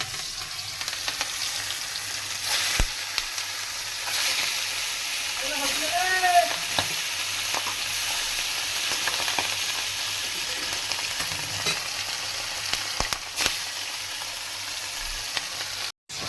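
Small chela fish fry in hot oil with a steady crackling sizzle that runs throughout, a few clatters and faint background voices mixed in, and a sharp knock near the end.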